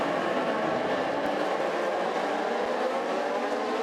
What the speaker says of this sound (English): The revs are rising